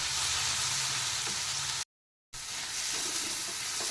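Egg curry with turmeric, chili powder and salt sizzles steadily in a pan as it is stirred and mixed, a continuous close frying hiss cut by a brief silence partway through.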